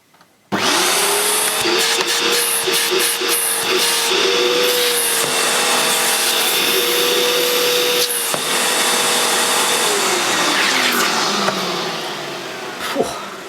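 A vintage early-1990s Hoover U2107 Turbopower 2 vacuum cleaner switches on with a sudden whine and runs loud and steady at close range, its pitch wavering slightly before it winds down near the end.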